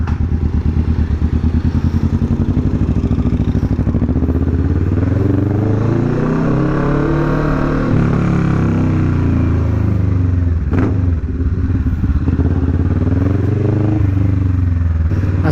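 A Kawasaki Vulcan S motorcycle engine revs hard and close, rising and falling in pitch through a long sustained pull, loud and unbroken with no talking over it.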